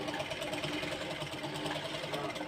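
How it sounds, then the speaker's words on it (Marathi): A sewing machine runs steadily, stitching a fitting seam on a blouse, its continuous mechanical whir and rapid needle patter close and even throughout, with no voices. "अशा पद्धतीने आपण फिटिंगची इथे शिलाई मी घेत आहे"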